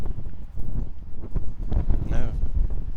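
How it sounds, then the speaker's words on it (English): Strong wind blowing outdoors at the Porto Montenegro marina beside large sailing ships, a loud rumbling gust buffeting the microphone, with a person talking through it. "it's very windy today"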